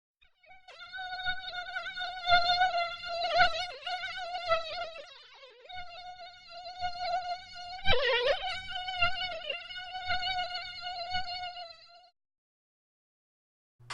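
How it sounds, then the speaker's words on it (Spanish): A mosquito buzzes in a steady, whining drone for about twelve seconds, wavering in pitch and loudness as it moves near and away, with no talking. "Mosquito."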